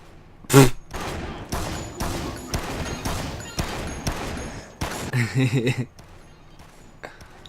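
Gunfire in the video game Dead Rising, a loud opening shot followed by a string of evenly spaced single shots and a short rapid burst near the end.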